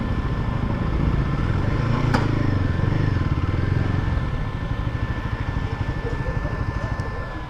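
A Royal Enfield Guerrilla 450 motorcycle engine runs with a steady, throbbing rumble during a test ride, loud and close, with a voice talking over it.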